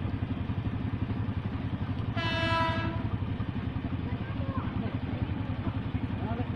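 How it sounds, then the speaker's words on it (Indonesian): A freight train rumbles steadily past on an Indonesian commuter railway near Nambo and Citayam, its wheels beating a constant rhythm while a loud horn blast sounds for about a second partway through. "Di belakang ada kereta barang."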